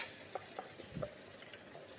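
Softened onion and ginger-garlic paste fry in a pan for a spicy garlic chicken karahi, giving a faint, low sizzle broken by a few soft stirring clicks.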